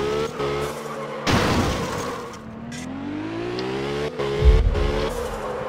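A car slides sideways between shipping containers in Absolute Drift, engine revving and rising in pitch through the drift, with sharp bursts of tire scrub and a thump near the end.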